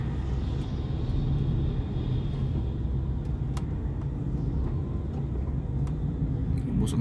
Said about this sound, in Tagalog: Grabe ka-traffic.